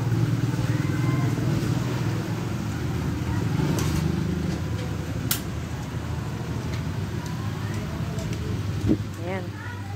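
A Honda 125 motorcycle fitted with a steel sidecar idles steadily and close by for the whole stretch, a constant low engine drone with someone speaking over it.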